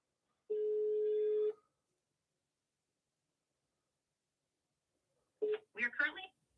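A single long telephone ringback tone on an outgoing call to a property management line, fairly faint, followed after a pause by a brief stretch of talk.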